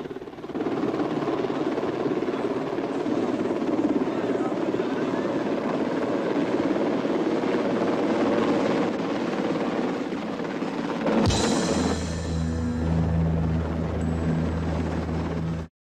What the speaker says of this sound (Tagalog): Hanip sa dating! Naka-helicopter pa!